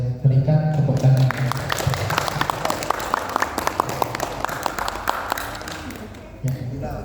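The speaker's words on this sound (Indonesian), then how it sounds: "Berikan tepuk tangan." Audience at an Indonesian inauguration ceremony breaking into applause, a burst of scattered claps that fades out, with a voice talking briefly at the start and end.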